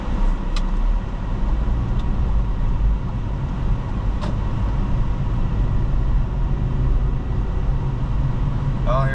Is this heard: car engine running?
yes